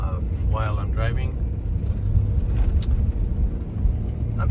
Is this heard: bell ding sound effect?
no